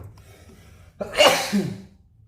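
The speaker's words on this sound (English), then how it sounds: "What a sneeze." A single loud, sharp sneeze bursts out after a brief intake of breath, close by and alone.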